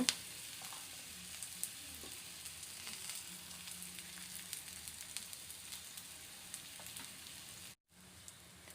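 Ragi adai, a finger millet flatbread, sizzles steadily in sesame oil, a close, even crackling hiss with small pops throughout that briefly cuts out near the end.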